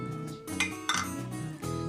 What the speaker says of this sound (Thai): เราจะใส่เนื้อมะพร้าวอ่อน ลงไป ในเครื่องปั่น